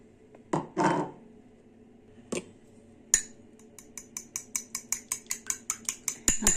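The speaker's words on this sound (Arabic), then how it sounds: "نخلط هاد البيضه مزيان ونضيف على الخليط ديال الزبده والسكر." An egg being mixed into a butter and sugar mixture in a bowl: a few scattered knocks and clinks give way to quick, rhythmic clicking strokes of a utensil against the bowl.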